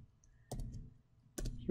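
Two crisp computer mouse clicks, close and fairly loud, spaced about a second apart over quiet room tone, copying a token at a desk.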